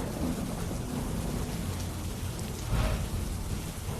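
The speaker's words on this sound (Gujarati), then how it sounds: "રાત્રે પવન સાથે માવઠું થયું છે" Unseasonal winter rain falls with wind at night in Banaskantha, a steady dense hiss of rainfall with a brief deeper rumble swelling near the end, no voices.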